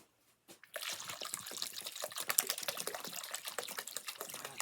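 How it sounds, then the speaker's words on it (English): Water from a tap pours steadily into a container where a plant's long-rooted root ball is being soaked, a close, continuous splashing and trickling that starts after a brief pause and runs to the end. "Got the water going in."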